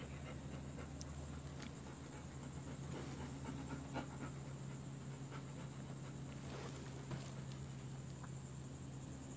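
A Bernese mountain dog pants steadily and close by for several seconds, a continuous soft rhythmic breathing over a low background hum, with no talking.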